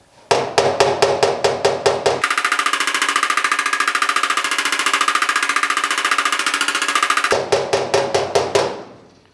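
Steady, rapid hammer taps on a GTO restomod body panel, knocking down a high spot: a fast run of sharp metallic strikes, then a dense continuous burst of tapping, then a few more separate blows, close and loud with no talk.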